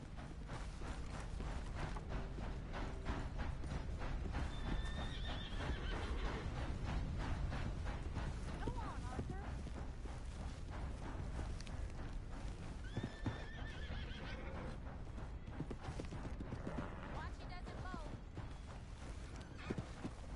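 Horse hooves clop steadily while a horse neighs and whinnies a few times, over a dense, constant background of mechanical game sounds in Red Dead Redemption 2.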